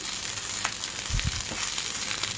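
Curry leaf rice sizzles steadily in a pan over low heat while being stirred down to the bottom. A constant close frying hiss runs throughout, with a couple of soft low scrapes from the stirring.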